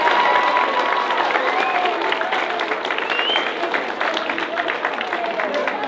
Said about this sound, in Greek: ένα μεγάλο χειροκρότημα για να καλωσορίσουμε τους μαθητές της πρώτης γυμνασίου